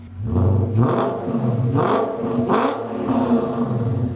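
A BMW E39 540i with a Turner muffler delete revs up close through its exhaust in several raspy, slightly deep blips that rise and fall over a steady idle, with no talking.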